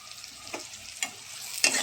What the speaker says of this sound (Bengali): তেলের মধ্যে কাঁচা লঙ্কা আর পেঁয়াজটা দিয়ে দিয়েছি